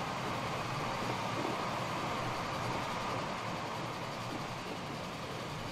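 Steam train running in the Transport Fever video game, a steady, continuous rumbling roar with an even low drone and no distinct pauses, heard at a moderate level.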